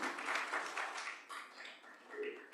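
Audience applause welcoming a speaker at a facility management conference and awards event, a steady wash of many hands clapping at moderate distance, fairly faint, thinning briefly midway before swelling again.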